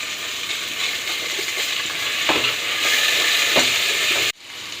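Ginger garlic paste frying and being stirred in a pan for a fish pulao, a continuous loud sizzle with a few scraping stir strokes, cutting off abruptly near the end.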